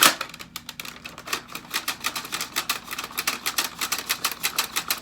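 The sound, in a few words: Dart Zone Pro MK 1.2 blaster priming, rods catching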